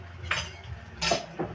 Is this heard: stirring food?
yes